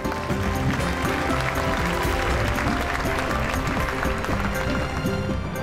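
An audience applauds after a dance performance by a couple, a loud, steady wash of clapping that holds for several seconds with music playing underneath.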